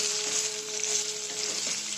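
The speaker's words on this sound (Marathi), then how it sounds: "कांदा चांगला भाजल्यानंतर आणि त्याच्यामध्ये टोमॅटो पण चांगला भाजून घ्यायचा" Onion and tomato fry steadily in a pan on the stove, giving a continuous, close, even sizzle with no voices.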